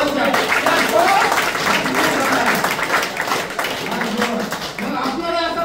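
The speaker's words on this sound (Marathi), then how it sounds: "मॅडम साठी एकदा जोरदार टाळ्या होऊ द्या" Loud, dense applause from a seminar audience for a woman, filling the whole stretch as a steady wash of many hands with a voice talking over it.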